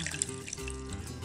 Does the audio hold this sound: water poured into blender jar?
yes